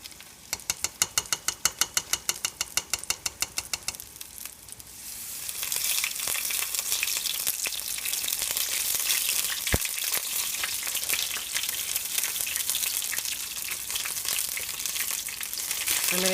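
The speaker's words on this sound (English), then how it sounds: "Do a shallow fry, you know, and cook it on a very low heat." Battered oyster mushrooms shallow-frying in a pan over very low heat, starting with a few seconds of rapid rhythmic clicking before a steady, fairly loud hiss of sizzling oil fills the rest, with no talking.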